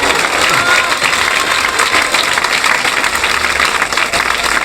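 Church congregation applauding loudly during a Christian worship service, dense continuous clapping that holds steady for several seconds with a crowd murmur beneath it.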